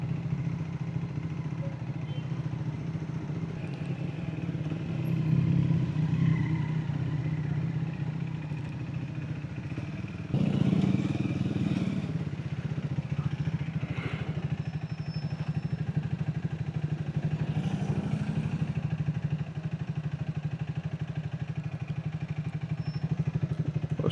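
A Triumph Speed 400 motorcycle engine runs steadily with a low, continuous drone and light mechanical clatter that suggests tappet noise, with slight surges in level partway through and no talking.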